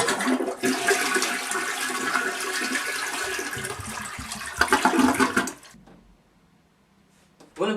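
A toilet flushes with a loud rushing surge of water lasting about five seconds, then drains away into near silence before a brief final gurgle.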